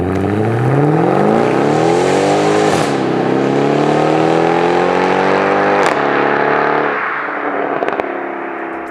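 A Mercedes E63 AMG V8 with an H-pipe exhaust revs up loud and close, its deep tone climbing steadily over several seconds and then settling back toward idle.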